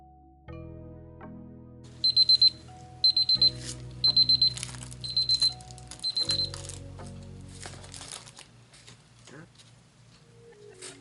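A kitchen timer goes off after resin mixing for a domino-making craft project, giving five evenly spaced bursts of rapid high beeps over a low background hum.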